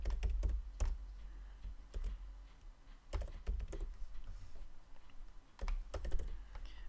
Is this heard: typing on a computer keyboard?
yes